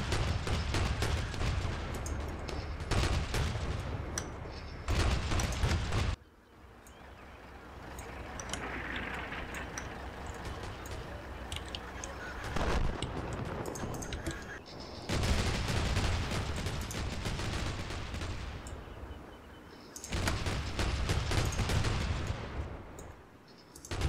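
Artillery fire mission in the war game Combat Mission Black Sea: several loud bursts of heavy firing and booming impacts, separated by quieter rumbling stretches, with a voice briefly in the background.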